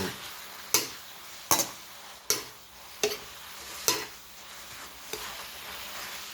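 A steady sizzle of catfish stir-frying runs under six sharp, evenly spaced scrapes of a spatula against a pan, roughly one every second, close and distinct.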